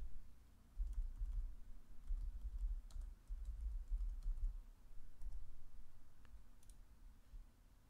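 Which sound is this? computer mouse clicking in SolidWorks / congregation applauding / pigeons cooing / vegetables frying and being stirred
computer mouse clicking in SolidWorks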